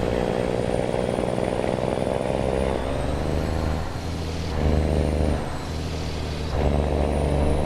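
A Peterbilt 389 truck in American Truck Simulator engine braking, a loud, steady low rumbling drone that dips and swells a couple of times, with faint high tones drifting above it.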